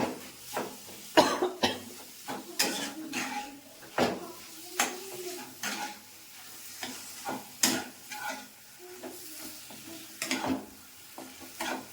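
Potato being stirred and mixed in a pan while cooking bread pakora, with repeated soft scraping and clinking strokes at close range, some light sizzling beneath, and no talk.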